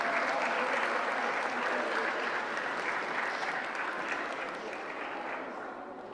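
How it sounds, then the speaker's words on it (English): Audience applause for students at a middle school science fair, a full, steady round of clapping from many hands that slowly fades toward the end. "Can we all have one round of applause once again for all the students today?"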